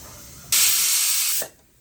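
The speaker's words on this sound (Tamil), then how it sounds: "முதலாவது விசில் வர போகுது." A pressure cooker whistle releases steam in a single loud, sustained hissing burst of about one second, rising abruptly and cutting off sharply, with no talk over it.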